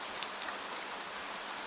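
Gentle, steady rain falling on a Victorian London night street, a soft even hiss with scattered drops and no voices.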